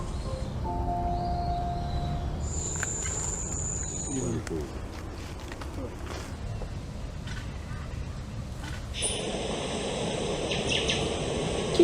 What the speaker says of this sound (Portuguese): Isso é um pichoxó, um passarinho que o pessoal tem muito em gaiola